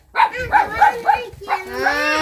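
A dog barks at people: four quick, evenly spaced barks close by, followed by a drawn-out, whining howl.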